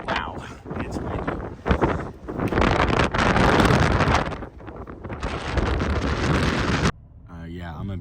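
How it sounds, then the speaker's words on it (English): Strong wind during a winter storm in the countryside roars and buffets the microphone in loud gusts for most of the clip, then drops off sharply near the end. "Wow, it's windy."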